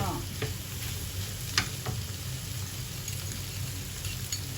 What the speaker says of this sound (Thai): เราจะผัดไม่นานนะคะ